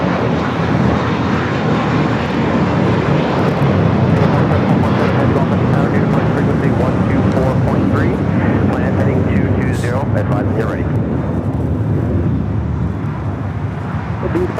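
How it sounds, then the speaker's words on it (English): An American Airlines jet arriving from Sydney at Los Angeles International Airport roars loudly and steadily, a broad sustained engine rumble throughout, with people's voices audible over it. "this flight has a 9 in front of it, so it's American Airlines"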